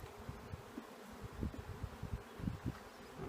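Honeybees in a nuc hive, stirred up by a puff of smoke, hum in a low, fluctuating buzz with small surges, fairly quiet and close throughout, with no talking.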